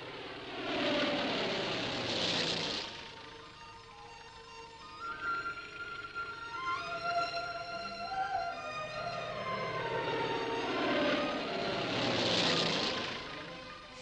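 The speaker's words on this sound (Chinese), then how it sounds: "飞机撒药除草" A propeller aircraft sprays herbicide over wide wheat fields on state farms in Heilongjiang in 1965. Its engine drone swells as it passes near, fades in the middle, then rises loud again on a second pass.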